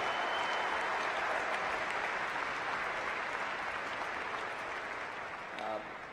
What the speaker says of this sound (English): a round of applause for all of our graduating senior students